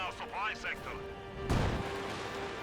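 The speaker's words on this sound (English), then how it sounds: "Oh, here another Katusha barrage." A Katyusha rocket barrage lands in Company of Heroes 2, a heavy rumbling impact that hits midway and keeps roaring. Game voices and a speaking voice come first, and a steady low hum runs throughout.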